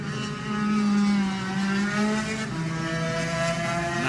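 A Yamaha racing motorcycle in the Manx Grand Prix Lightweight race at the Classic TT roars close by, its engine held high and steady with slight pitch shifts as it pulls away.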